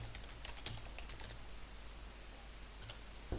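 Computer keyboard keys tapped while a spreadsheet formula is entered, a quick irregular run of close, light clicks with a short pause near the end, faint overall and with no one talking.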